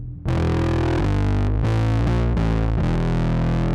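Bass guitar run through a Skreddy Pink Flesh fuzz pedal, loud and thick with distortion, playing a sequence of sustained ringing notes that change every half second or so, with no talking.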